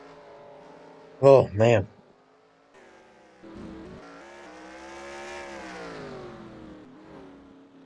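Race cars in a racing video game whine through rising and falling engine revs as the tires spin, moderately loud beneath a commentator talking, with a brief louder burst early on.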